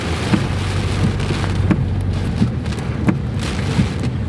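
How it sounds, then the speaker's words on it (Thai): Heavy rain pours steadily and loudly, a dense continuous hiss with occasional louder drops or thumps breaking through. "ฝนตกนะช่วงนี้ สภาพฝนตก เป็นช่วงที่ฝน ลงใหม่ ๆฮะ"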